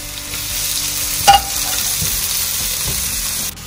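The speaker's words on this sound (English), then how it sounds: "now we're going to get started to fry the peppers" Peppers frying in a pan for tofu red curry noodle soup, a loud, close, continuous sizzle with a brief knock of a utensil partway through, no voices.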